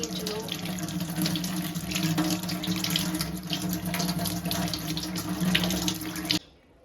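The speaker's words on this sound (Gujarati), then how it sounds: "ચલો ધોઈ આવીએ. આપણે એને સરસ વોશ કરી નાખીએ." A kitchen tap runs steadily into a sink while something is rinsed under it, a close, even splashing rush that cuts off abruptly just before the end.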